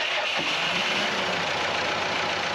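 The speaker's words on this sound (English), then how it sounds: "So we've got the engine running" A boat engine, just brought to life with a jump starter, runs steadily at idle with a broad, even rumble and hiss, no voices over it.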